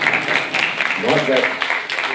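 An audience at a startup expo and conclave claps in a steady wash of applause from many hands, moderately loud, with a voice speaking over it partway through.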